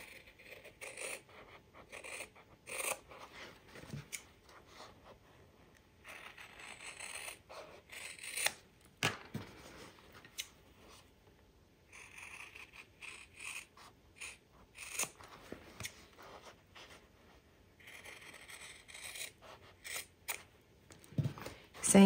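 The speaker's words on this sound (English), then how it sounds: "Now let's take some scissors and we're going to cut that out." Scissors cutting fabric pieces for a simple fabric basket, a close, faint run of repeated snipping and scraping strokes with brief pauses, no talk.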